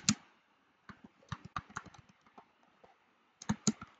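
Typing on a computer keyboard while formatting a document, in irregular bursts of close, crisp key clicks with short pauses between, loudest at the start and near the end.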